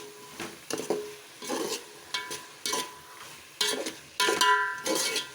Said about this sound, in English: when you fry the vegetables, it gives a beautiful roasted flavor